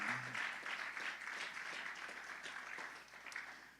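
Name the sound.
audience applause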